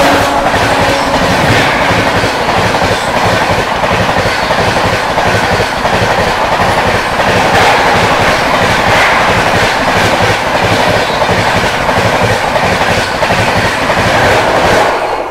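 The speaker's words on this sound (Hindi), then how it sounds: "पीछे से आती हुई अपनी मगध एक्सप्रेस को ओवरटेक करने क्वीन ऑफ राजधानी 12313 शालदा न्यू दिल्ली राजधानी एक्सप्रेस" The Sealdah–New Delhi Rajdhani Express (12313) overtakes the Magadh Express on Indian rails: a loud, continuous rush of wheels with a rapid clickety-clack rhythm, heard close and steady throughout with no talk.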